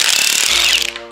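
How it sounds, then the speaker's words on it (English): An impact gun rattles loose the head bolts on an Intech engine, a loud, rapid buzzing hammer burst up close that cuts off abruptly near the end. "So now we're gonna see if my big boy gun will just rattle off the head bolts."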